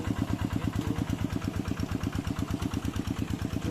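A farm machine's engine works a rice field with a rapid, even chugging beat that stays close and steady throughout, with no voices.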